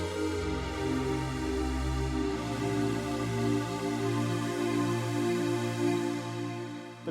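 Korg Poly-6 synthesizer holds hollow, smooth sustained pad chords that shift slowly and blend into one another, steady and moderately quiet with no voices.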